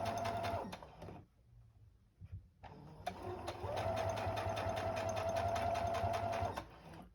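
Sewing machine stitching quilt fabric for a scrappy heart quilt, running in two bursts: a short start, a pause of near silence, then a longer steady whirring run with a rapid needle rhythm, close and moderately loud.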